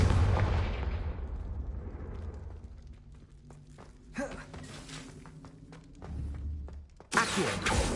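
Spell effects from the Hogwarts video game, a Confringo blast spell: a heavy rumbling impact fades out, then sharp cracks and a bright hissing burst follow near the end.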